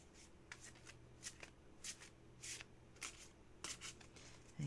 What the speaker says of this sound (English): let's do 3 cut shuffles and ask for a message